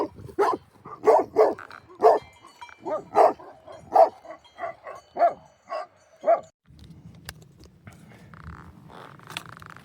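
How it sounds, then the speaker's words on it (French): Several dogs guarding a flock of sheep in the Belledonne mountains bark repeatedly in an irregular series of sharp, loud, close barks, then fall quiet, leaving a low hum of wind and movement. "Ils font qu'aboyer."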